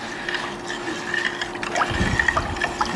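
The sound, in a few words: soy sauce being poured into a pot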